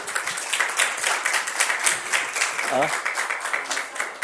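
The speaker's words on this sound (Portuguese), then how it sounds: "Queria pedir uma salva de palmas para a Érica" Applause from people at a parliamentary front meeting for an intern, clapping rising and falling over a few seconds with voices and a brief whistle-like tone mixed in.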